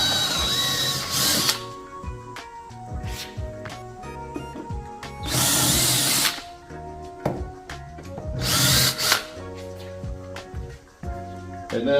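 A 17/64 drill bit bores a hole during work on a 68 Chevelle Pro Street, three loud bursts of high whirring drilling separated by quieter mechanical clunks and pauses.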